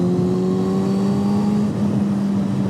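A 2005 superbike without ABS or traction control holds a loud, steady engine drone while under way, with a strong, even exhaust tone and faint wind noise throughout.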